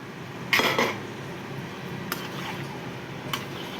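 Boiled chickpeas for ghugni tipped into a pan with a short, close clatter and rattle, then a few faint utensil taps over a low background hiss; no one speaks.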